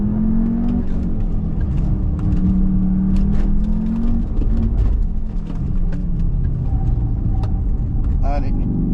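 Cupra Formentor 310 accelerating at full throttle on a timed mountain run at Pas de la Case, Andorra, a loud sustained engine roar rising in pitch from inside the cabin, with a person talking over it.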